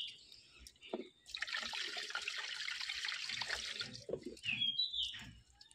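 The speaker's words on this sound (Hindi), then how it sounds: "एक बार गेहूं का हाल देखिए, इतना गंदा पानी निकल रहा है" Water pours and splashes as wheat grains are washed by hand in a village home, a steady rushing gush with trickles and drips at the start and end, close by.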